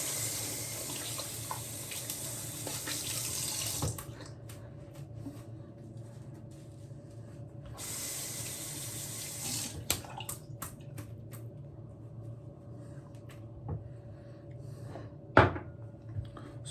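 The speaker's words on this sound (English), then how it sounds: "So I'm gonna rinse my face" A bathroom tap runs in two steady bursts while a face is rinsed, broken by a quiet gap and followed by faint splashes, drips and a sharp knock near the end.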